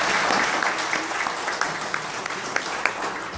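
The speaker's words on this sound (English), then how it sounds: "Can we provide a warm round of applause for the great efforts?" An audience claps steadily at a community birthday celebration, a dense wash of applause with a few sharper individual claps standing out, loud and close throughout.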